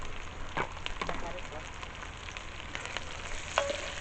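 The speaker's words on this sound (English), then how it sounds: "going to use all that bacon fat, and I'm going to cook some onion" Chopped onion fries in leftover bacon fat for baked beans, a faint, steady sizzle with a few soft clicks and stirring sounds, heard close and quiet.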